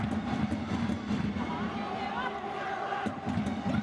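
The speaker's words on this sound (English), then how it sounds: "there's the man with the drum, and there's the man with the loudspeaker leading the China applause" A crowd of Chinese fans cheers and chants in a stadium at a women's international football match against North Korea, led by a drummer and a man with a loudspeaker. The roar is continuous, with a commentator talking over it.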